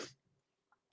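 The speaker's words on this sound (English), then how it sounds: "Hold on, I gotta sneeze." A single sharp sneeze bursts out at the start, loud and close, then fades into near silence with only faint room noise after.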